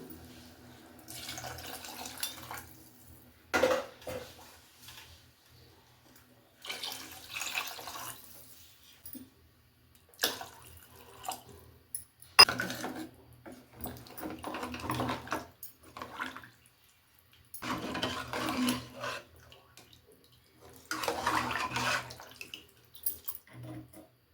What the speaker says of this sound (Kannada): ಈಗ ನೀರು ಒಂದು 4 ಗ್ಲಾಸಷ್ಟು ನೀರು ಹಾಕ್ಕೊಳ್ತೀನಿ ನಾನು.